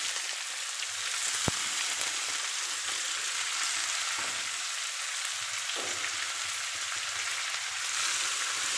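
Cumin and chopped onions frying in hot oil, a steady close sizzle with faint stirring, no talking.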